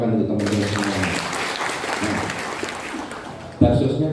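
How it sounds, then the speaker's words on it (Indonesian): Audience at a Korpri civil servants' gathering clapping for colleagues, a moderately loud spell of applause that briefly overlaps a voice at the start and the end. "Tepuk tangan untuk teman-teman semua."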